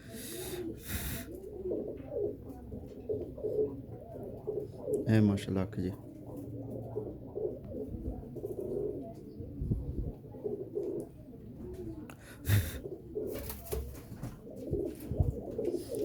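A male French pigeon coos softly in bursts during a bird-keeping session. Someone talks over it throughout, with occasional rustling and handling noises close by.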